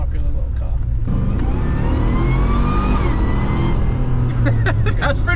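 A Land Rover Defender with a swapped-in Corvette V8 roars under full throttle, the pitch climbing steadily through the gears, loud and close, with people talking over it near the end.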